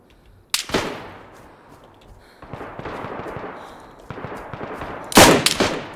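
Gunfire in DayZ: a loud close shot followed by rolling echo, a stretch of lower crackling distant shots, then another sharp burst of reports near the end.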